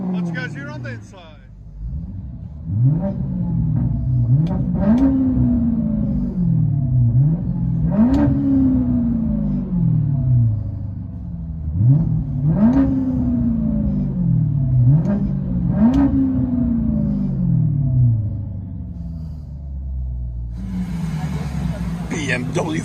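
Straight-piped BMW 545i V8 on M5 wheels, heard from inside the cabin, revving repeatedly in rising and falling pulls over a deep steady drone, loud and close.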